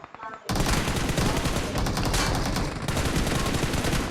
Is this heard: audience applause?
no